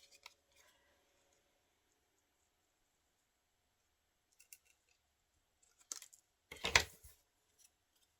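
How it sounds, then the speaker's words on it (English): Scissors cutting paper for a magazine collage, mostly quiet with faint rustles, then a couple of crisp snips close by, the last one longer and loudest. "Let me cut this one off here."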